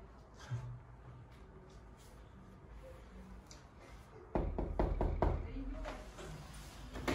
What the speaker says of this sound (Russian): Это Паша стучит